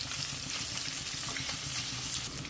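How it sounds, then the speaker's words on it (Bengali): Beaten eggs are scrambled in a hot pan for fried rice, giving a continuous close, quiet sizzle with light stirring throughout. "এই ডিমটাকে ভালো করে স্ক্রাম্বল করে নিতে হবে।"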